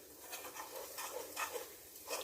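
Chickpea curry ingredients are sautéed and stirred in oil, giving a soft sizzle with scraping stir strokes and light pan clatter, close and quiet.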